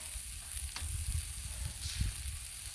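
Bacon sizzles on a Blackstone griddle over less than full heat, a steady crackling fry with a few soft scrapes and pops, close and clear without speech.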